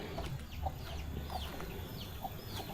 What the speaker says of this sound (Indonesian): Tuh banyak ayam berkeliaran di sini ya.